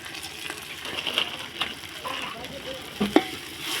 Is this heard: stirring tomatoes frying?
yes